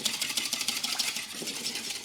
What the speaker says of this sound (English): I'm going to give that a good whisk first.